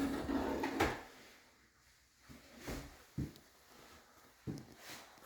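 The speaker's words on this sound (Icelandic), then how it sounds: "Og allar skúffur með ljúflokun" Soft-close drawers in the wardrobe of a newly built holiday cabin open and close quietly in a few muffled slides and soft thuds, close by, with no talking.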